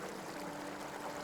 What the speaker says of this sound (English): water is flowing right out from the base of the rocks right there